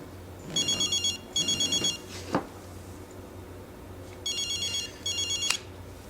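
A telephone rings in two pairs of bursts, warbling electronic trills with a short pause between them, fairly close and clear, with faint background noise and a brief thud between the ring pairs.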